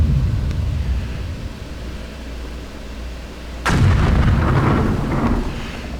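A bombard artillery piece fires in the World War II strategy game Sudden Strike 3, a sudden loud boom that rolls into a rumbling roar over steady low battlefield background noise.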